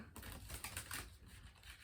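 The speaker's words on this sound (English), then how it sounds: "Just do some initial shuffling" Tarot cards are shuffled by hand with a quick, soft papery riffling and rustling that runs steadily for under two seconds, close and fairly quiet, with no talking.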